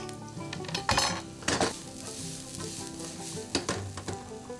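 Chopped garlic and onion land in hot oil with a burst of sizzling, then a steady fry with sharp metal clatter from a spatula scraping the pan, several bright clanks spread across it, and no voices.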